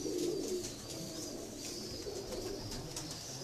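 High flyer pigeons coo steadily and close by, a soft continuous burble with a faint hum and a few scattered chirps behind it, and no voices.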